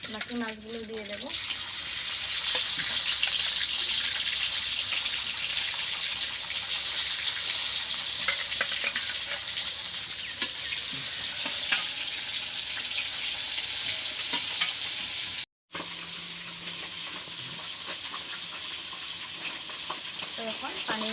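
Fish frying in hot oil for a village-style Bengali fish curry, a loud, dense and continuous sizzle heard up close, with a momentary break near the end before the sizzling resumes.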